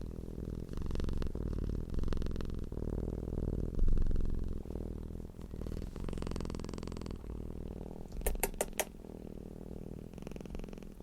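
A domestic cat purrs with a deep, steady humming rumble close by, continuous through the clip, with a few brief higher ticks near the end.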